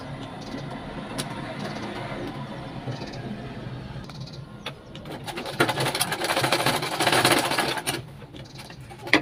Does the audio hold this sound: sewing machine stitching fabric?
yes